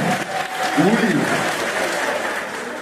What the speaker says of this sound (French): S'il vous plaît, applaudissez encore une fois pour Samuel et tout.